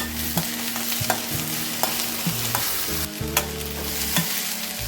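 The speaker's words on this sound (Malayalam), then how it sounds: "സവാള ചെറുതാക്കി കട്ട് ചെയ്തതാണ്, അത് ഇട്ട് കൊടുക്കുന്നത്. നമ്മൾ ഇതിനകത്ത് 1 ടേബിൾ സ്പൂണ് വെളുത്തുള്ളി ഇട്ട് കൊടുക്കുന്നുണ്ട്." Chopped onions and garlic fry in a pan for a prawn dish, a steady close sizzle punctuated by regular clicks and scrapes of a utensil stirring.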